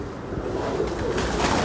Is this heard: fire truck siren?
no